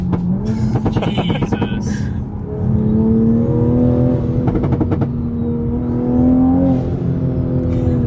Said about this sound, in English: But you can hear so much more turbo noise